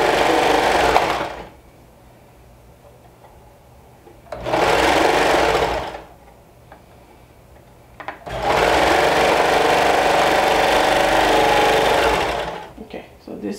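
A sewing machine attaching binding to a neckline runs in three bursts, loud and close, with a steady buzzing whir that stops and starts between pauses.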